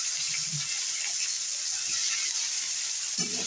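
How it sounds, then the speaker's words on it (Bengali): Onions dropped into hot oil for a potol kosha curry fry with a steady, soft sizzle and bubbling hiss, fairly quiet and even, with faint clatter near the end and no talk. "এবার পেঁয়াজ দিচ্ছি, আমি দেখে দাও বন্ধুরা, পেঁয়াজ দিচ্ছি।"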